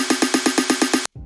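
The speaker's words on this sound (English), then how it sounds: "It's a 16th note snare roll." Programmed 16th-note snare roll from an Ableton drum rack: about ten loud, evenly spaced bright snare hits in quick succession, cutting off abruptly into a brief low tail.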